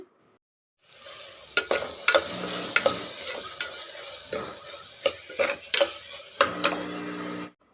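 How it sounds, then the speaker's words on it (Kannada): Chopped tomato and mint fry and sizzle in a pan while a spoon stirs them, with steady sizzling broken by sharp, irregular knocks and scrapes against the pan, close up. "ಸಣ್ಣಕ್ಕೆ ಹೆಚ್ಚಿರುವಂತಹ ಟೊಮೊಟೊ ಆಮೇಲೆ ಪುದೀನ ಕಟ್ ಮಾಡಿ ಇಟ್ಕೊಂಡಿದ್ನಲ್ಲ ಅದೆರಡು ಮಿಕ್ಸ್ ಮಾಡ್ಕೊತಾ ಇದ್ದೀನಿ"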